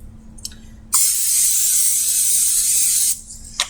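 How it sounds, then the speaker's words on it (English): Butter-flavored Pam cooking spray released in one steady hissing burst lasting about two seconds, close and clear in a quiet kitchen, with faint clicks of handling before and after. "Can't forget the Pam. And I love butter, so it's butter flavored."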